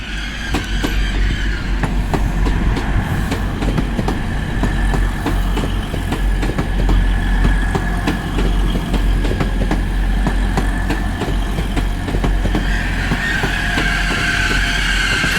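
A Class 180 diesel train passes through York station with a loud, sustained engine drone and rumbling wheel noise, near and continuous throughout, with no talk over it.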